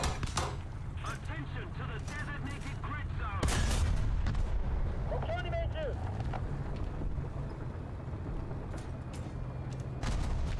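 Tank cannons fire in a video game, with several heavy booms and sharp cracks, the loudest near the middle, over constant rumbling wind-like background noise while voices are heard.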